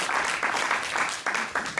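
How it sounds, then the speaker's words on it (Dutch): Applause from a seated audience for a speaker at a lecture event, a brief dense burst of many hands clapping in uneven surges over two seconds. "Nog een applaus voor Marcus."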